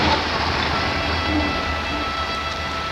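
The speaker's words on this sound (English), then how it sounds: "That was a big lorry." A big lorry passes along a busy street, a loud, broad engine-and-road roar with a low rumble that fills the whole few seconds without any break.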